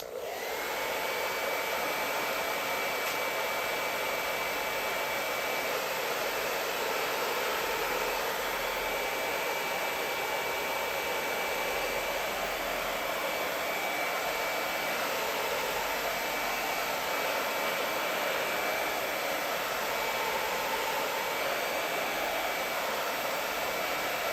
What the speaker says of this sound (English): I'm just gonna quickly use the hair dryer to get those good and dry